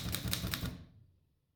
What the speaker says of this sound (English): Do you see it moves when I type on the keyboard?